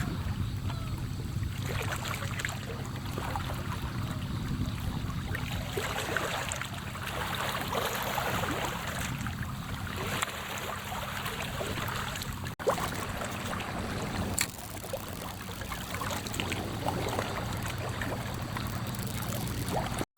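A soft, continuous wash of flowing water, like a gentle stream, runs throughout with a few sharp glitchy impacts standing out briefly above it.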